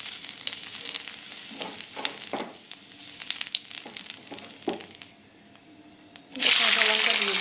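Nigella seeds and green chili hitting hot mustard oil, with soft crackles and stirring scrapes that build to a loud, bright sizzle burst near the end; no voices.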